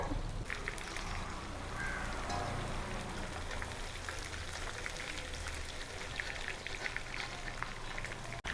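Chicken 65 pieces coated in masala sizzle steadily in hot oil, a dense crackling hiss that stays fairly close and even throughout.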